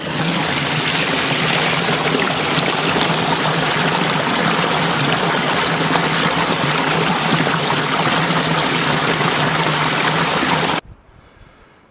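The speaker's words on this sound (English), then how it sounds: "There's your waterfall." Steady rushing water pours continuously, a dense broadband wash like a small waterfall close by, cutting off abruptly near the end.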